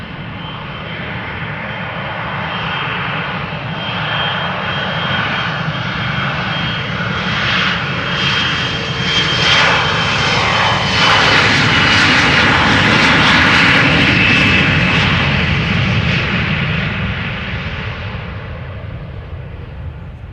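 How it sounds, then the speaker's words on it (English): An Embraer 175 jet airliner departs Amsterdam Schiphol Airport, outbound to Bergen, its engine roar loud and steady across the whole stretch, swelling toward the middle and holding broad and powerful as it climbs away. "Embraer 175 outbound to Bergen"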